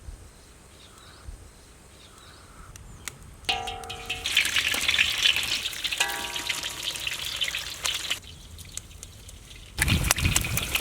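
Scrambled egg cooking in oil, quiet at first, then a loud bright sizzle builds and holds for several seconds, briefly cuts out, and returns with a heavier burst of frying near the end.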